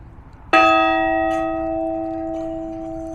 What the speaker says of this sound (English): ring the Liberty Bell